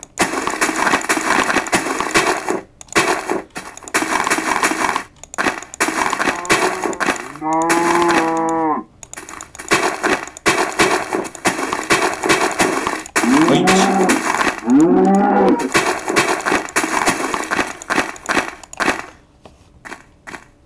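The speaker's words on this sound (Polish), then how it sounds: "Krowa!" Cows moo in Minecraft, two drawn-out lowing calls heard amid repeated crunching block-breaking and digging sounds that dominate the scene, loud and close with brief pauses.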